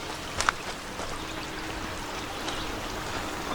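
A forest creek in Cook Forest State Park, Pennsylvania, flows in a steady, even rush of water, heard from a short distance, with a brief tap near the start.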